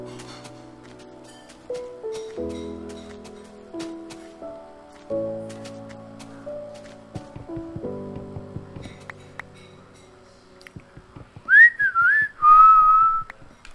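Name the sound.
person whistling a song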